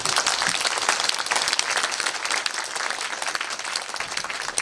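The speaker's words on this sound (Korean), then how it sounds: "박수 한 번 더 부탁드릴게요." Sustained, dense applause from a seated audience at a Korean film screening and guest talk for 12.12: The Day, steady and loud throughout with no voices over it.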